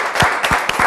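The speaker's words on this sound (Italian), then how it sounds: "farei un applauso a Sara" Brief burst of audience applause greeting Sara as she enters during the final episode of a sandwich cooking competition show, a dense clapping wash lasting under a second.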